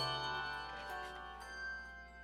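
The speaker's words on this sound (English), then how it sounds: "The sound of bells ringing makes for the perfect background music for Christmas." A handbell choir rings together in sustained, shimmering tones, several pitches overlapping and fading softly, with no voices.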